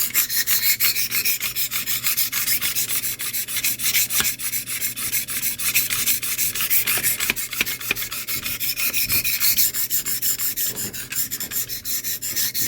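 A knife blade drawn over Cold Steel benchtop diamond sharpening stones, producing continuous close, rasping, rhythmic scraping strokes with no speech.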